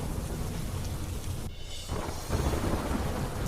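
Heavy downpour around the Ahmedabad riverfront, a dense, loud, unbroken roar of rain that dips briefly before swelling back to full strength.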